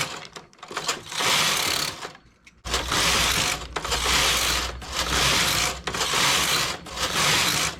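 A knitting machine works a tricot belt, its carriage sweeping back and forth in long rasping, clattering passes separated by brief pauses, close up with no talking.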